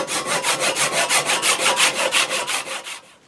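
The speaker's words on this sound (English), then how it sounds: "there is our handle piece sawn down" A hand saw cuts through a wooden handle piece for a kuksa, with about fifteen even, rhythmic rasping strokes, close and clear, that slow and stop at the end.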